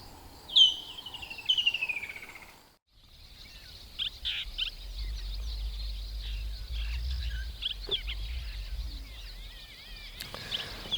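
Wild birds call on a morning game drive in the South African bush at Londolozi: a few clear sweeping chirps at first, then faint scattered calls and chatter over a low rumble.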